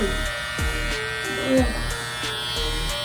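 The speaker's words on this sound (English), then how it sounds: "I'm shaving my neck now" An electric razor shaving a neck gives a steady, close mechanical buzz that wavers slightly in pitch as it moves, with voices and background sound mixed in.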